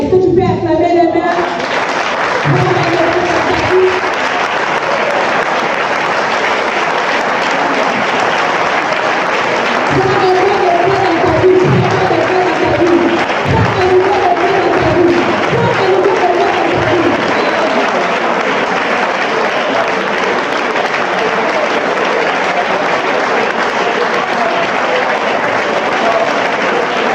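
An audience applauds steadily and loudly throughout, a dense wash of clapping with some voices and cheers mixed in, staying strong from start to finish.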